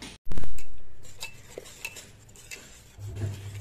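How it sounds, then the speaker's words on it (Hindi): Whisk clattering against a metal pot as cooked brinjal dal is beaten: a loud initial clang, then irregular scraping and tapping, close by. "अब हम इसको विस्कर की मदद से इसको हम बीट करेंगे या हैंड ब्लेंडर से।"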